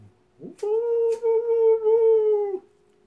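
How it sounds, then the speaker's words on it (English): A single long howl rises after a short yelp, holding a steady harmonic tone for about two seconds before breaking off, loud and close, with a brief second voice layered in; likely a dog howling along rather than a wolf. "wolf of the wind calling to you"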